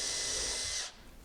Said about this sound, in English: I'm just going to pre-drill the two screw holes.